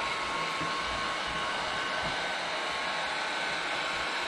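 A heat gun blows a steady, loud, unbroken rush of hot air while warming window tint film on a Honda Civic, the airy roar constant throughout with no talking.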